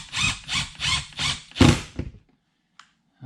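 Screws are driven into an RV side access door with a power driver, heard as five rhythmic, close ratcheting whirs that stop abruptly, followed by near silence and a faint click.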